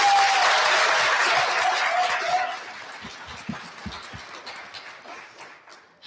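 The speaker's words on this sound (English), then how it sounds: "Can we please have a round of applause for our co-sponsors?" An audience at a Democratic town hall applauds loudly at first, then the clapping thins out into a few scattered claps and fades away.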